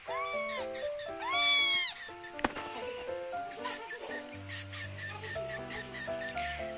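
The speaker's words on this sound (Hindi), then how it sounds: "यहाँ पर छोटी सी बिल्ली मेरे साथ वॉइस ओवर दे रही है" A small cat meows several times in quick succession, clear and close, with rising and falling tones; the calls fade toward the end, leaving a few soft, faint sounds.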